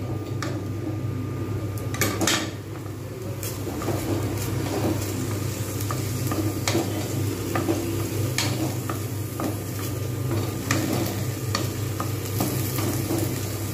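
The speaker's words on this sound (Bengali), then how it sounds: "এটা কিন্তু আমি ভালোভাবে ভেজে নেব। যতক্ষণ পর্যন্ত না ভালোভাবে ভাজা হচ্ছে আমার কিন্তু একটু ভালো করে ভেজে নিতে হবে।" Red lentils, masoor dal, dry-frying in a pan, a continuous close sizzle and rustle with repeated clinks and scrapes of a stirring spoon against the metal.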